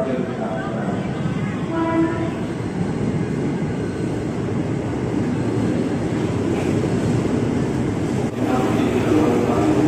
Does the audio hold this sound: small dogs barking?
no